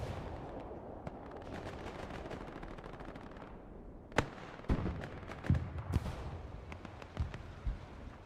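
Artillery and gunfire from the Hell Let Loose video game rumble under a dense distant battle bed, then several sharp close blasts and cracks break out in the second half, with no voices.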